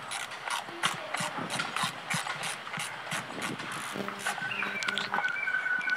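A ratchet wrench loosening number plate screws on a Yamaha FZS-V3 motorcycle, producing close, rapid clicking bursts in a steady rhythm, with a brief higher whirring toward the end.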